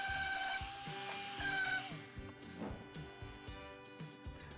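Hand sanding on a wooden recipe box, a steady gritty rubbing with repeated back-and-forth strokes, close and moderately loud, preceded by a brief tonal whine at the start.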